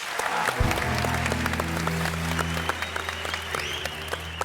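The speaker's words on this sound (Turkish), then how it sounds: "Ali abiye bir alkış" Audience applause for the artist Ali fills a television talk-show studio: dense, continuous clapping over a band playing, steady and fairly loud throughout.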